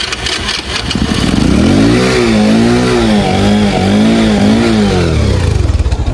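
A vehicle engine with a raised exhaust revs loudly and repeatedly while wading through flood water in heavy typhoon rain, its pitch rising and falling in waves over a constant wash of noise.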